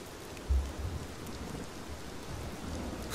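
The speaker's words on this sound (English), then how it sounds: "Please, it's raining." Heavy rain pours down steadily with a low rumble of thunder near the start, a constant close wash of noise in a dramatic storm scene, with no talking.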